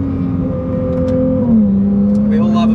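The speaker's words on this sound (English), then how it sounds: "We all love a blow-off valve" Ferrari 296 GTB engine under load on a hotlap, a steady loud droning tone that shifts pitch midway, with brief hissy bursts near the end that fit a blow-off valve.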